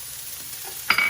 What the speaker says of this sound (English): I have white onions, garlic, and some purple red onions. So I'm gonna put these in here. Let those start frying up.